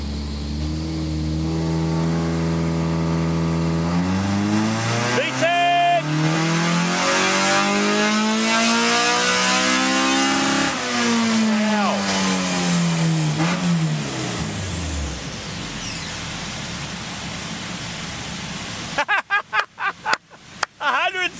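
A Honda Civic fitted with a $500 replacement engine revs loudly and accelerates, its pitch climbing through repeated rises and dips before fading. A sharp burst of clatter comes near the end, with voices heard faintly alongside.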